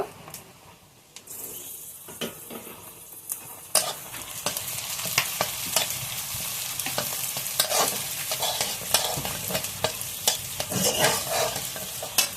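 Whole cardamom pods, a cinnamon piece and cloves fry in hot oil with garlic and ginger paste for a homestyle tahari, a steady close sizzle broken by repeated sharp scrapes and clacks of a stirring spoon against the pan.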